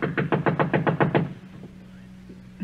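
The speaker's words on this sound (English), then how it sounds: "Knock again." A radio-drama door knock: about nine quick, evenly spaced raps on a wooden door, loud and close, then a quiet room with a faint low hum.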